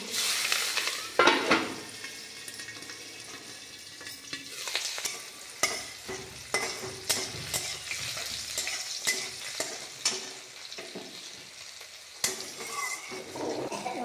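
Green chilies and garlic hit hot oil for a tempering in a Bengali curry of Malabar spinach and taro, giving a steady close sizzle broken by repeated stirring scrapes and light clanks of a pan.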